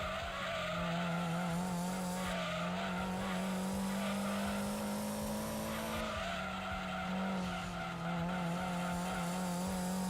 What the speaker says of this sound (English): I just taught you how to slide a Supra.